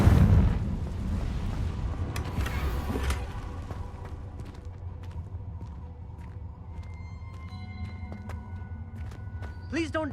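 Hogwarts Legacy Confringo fire spell erupting in a video game, starting with a loud close boom that fades into a rumbling tail, followed by quieter game sounds, with talk in the clip.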